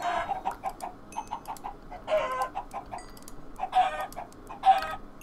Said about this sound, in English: we're just killing some chickens